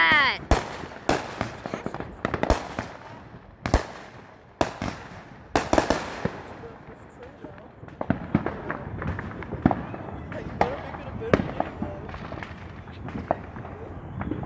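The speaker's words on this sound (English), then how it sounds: "these fireworks are getting better and better" Fourth of July fireworks burst in rapid, irregular succession, sharp loud bangs and crackles layered over a continuous rumble of distant explosions and crowd noise.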